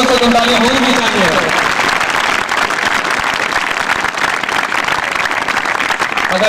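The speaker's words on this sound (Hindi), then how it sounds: "इसके लिए तो कम से कम ताली होनी भी चाहिए।" Applause rises in a hall at a college literary and awards gathering, a loud continuous patter of many hands that swells over a speaker's trailing voice and keeps going steadily.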